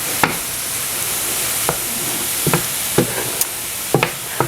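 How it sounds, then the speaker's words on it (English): Spinach sautéing in a pan over medium-low heat, a steady close sizzle with repeated sharp clicks and scrapes from a stirring utensil against the pan at an irregular rhythm. "I just want to saute this, stirring it while it's cooking down."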